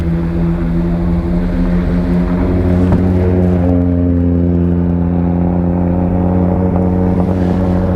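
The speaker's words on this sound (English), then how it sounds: "There goes the Stig then in the rally car, and there's Dan Prosser in the RS2." An Audi rally car pulls away at Goodwood with a loud, close, droning engine note that holds steady and then eases slightly as it moves off.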